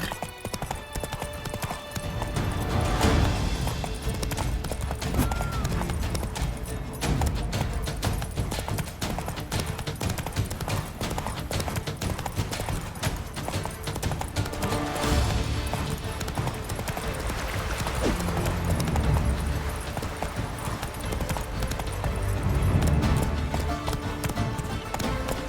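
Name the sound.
horse Roach galloping in a race, from video game The Witcher 3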